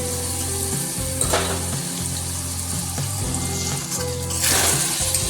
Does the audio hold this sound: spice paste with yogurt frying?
yes